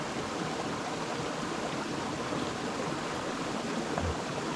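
A small stream runs down a dry hillside near a mountaintop on a trail between Branxholm and Pyengana, making a steady, even rushing flow without pauses.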